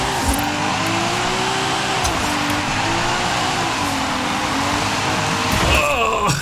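A car drifts with the handbrake in the racing game Forza Horizon 5, its engine droning steadily at a wavering pitch throughout, with a brief burst of extra noise near the end.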